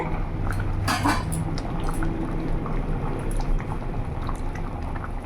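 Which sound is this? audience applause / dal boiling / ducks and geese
dal boiling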